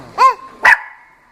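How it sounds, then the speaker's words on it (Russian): A small dog gives two loud, close, high-pitched yaps about half a second apart; the second trails off into a brief lingering tone. "Каже, маленька собачка гав-гав"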